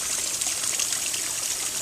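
A strong stream of water from a hose pours steadily into a Japanese teapot and basin, giving a loud, continuous splashing gush with no break and no voices.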